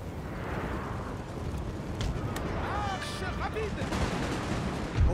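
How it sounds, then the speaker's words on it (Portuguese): Cannons boom across a Napoleon: Total War battlefield, with muffled blasts sitting inside a dense, continuous rumble of battle noise and a few brief tonal calls. "Finalmente os canhões estão acertando os caras aqui"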